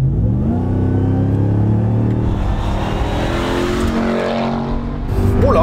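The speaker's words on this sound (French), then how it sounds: "Un petit dépassement un petit peu dynamique." A Dodge RAM TRX pickup with a 712 hp engine and eight-speed gearbox accelerates hard to overtake, its loud, close engine roar climbing in pitch through the gears before the revs drop and swell again.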